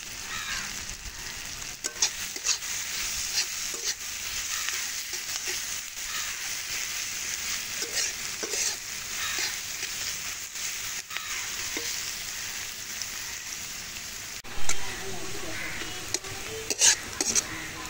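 Onions fry in a pan with a pinch of salt, sizzling steadily throughout, with a few soft clinks and scrapes of stirring along the way and a brief louder knock near the end.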